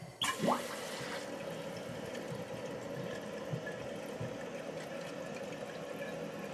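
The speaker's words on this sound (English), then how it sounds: "And now we can turn the water on." A short gurgling burst opens as the water supply is turned on, then water runs steadily and evenly into a drained toilet tank, with occasional small knocks, nearby and unaccompanied by speech.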